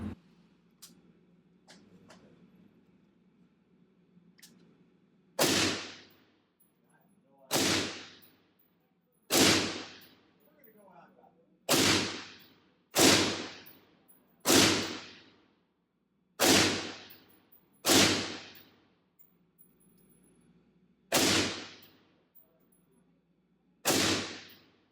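Nine suppressed gunshots from a rifle fitted with a Surefire SOCOM RC-2 suppressor at an indoor range, loud sharp cracks with short ringing decays, spaced a second or two apart after a quiet lead-in.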